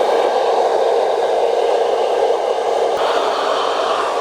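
A hair dryer blows a steady, loud, close whoosh over permed hair, with a slight shift in tone partway through as it moves.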